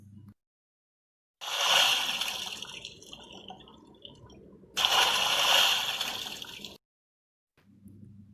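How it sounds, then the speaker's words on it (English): Two bursts of splashing water, each lasting about two seconds, separated by near silence, close and fairly loud, fitting someone jumping into water. "the word splash means the sound made when someone jumps into water"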